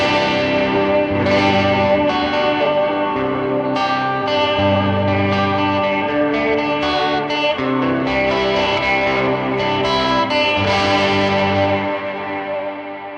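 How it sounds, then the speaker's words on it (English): An electric guitar is strummed, with the dry signal panned left and a heavily effected copy on the right. The chords are loud, sustained and distorted, with chorus and echo, and they play continuously with no talk. "you're hearing my natural guitar strum in the left ear and all of the effects of it"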